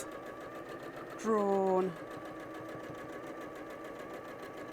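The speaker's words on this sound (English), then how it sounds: "I'm just going to sew down the left-hand side of that" A sewing machine stitches down the side of patchwork blocks laid on a fabric panel in a television sewing studio. It gives one short, steady burst of stitching under a single spoken word, with a hum and quiet chatter around it.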